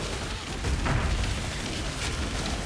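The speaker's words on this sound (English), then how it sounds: "Alright, corpse explosions here, pretty wicked." Corpse explosions in the action role-playing game Path of Exile, played as a Witch, give dense overlapping booms and crackling bursts, loud and continuous with a heavier thud near the middle.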